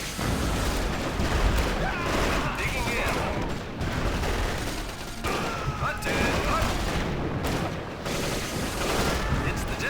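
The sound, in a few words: gunfire in Axis & Allies (2004) video game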